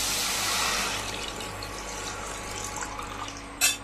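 Water is poured from a bowl onto sugar to make sugar syrup, a steady close splashing pour that ends in a brief louder splash.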